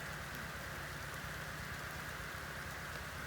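Soft, continuous rainfall patters on a surface while cattle graze, a steady hiss with no breaks and no voices.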